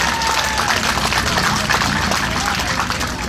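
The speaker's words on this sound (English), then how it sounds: "give yourselves a round of applause" An audience at a Palau Independence Day celebration on Guam breaks into sustained, dense applause, steady and fairly loud throughout.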